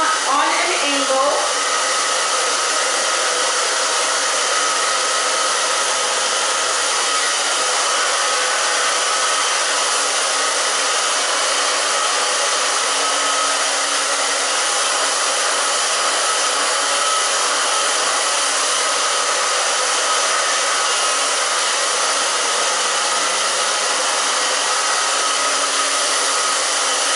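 A handheld hair dryer blows a loud, steady airflow for the whole stretch, drying hair at an angle, with no voices heard over it.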